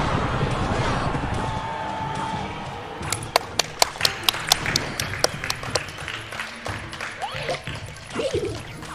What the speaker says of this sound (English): can we get a loud round of applause for Game 3?